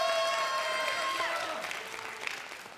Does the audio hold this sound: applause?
yes